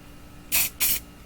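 A can of Rust-Oleum High Performance spray paint, used on 1/64 NASCAR diecast cars, gives two short loud hissing bursts close up, with a brief pause between them.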